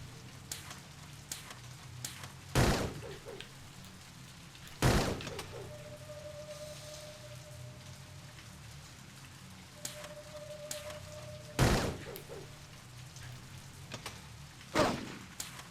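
Four sharp, loud gunshots in the Blade Runner Enhanced Edition video game on Nintendo Switch, spread unevenly over a quiet background hum with faint ambient tones between them.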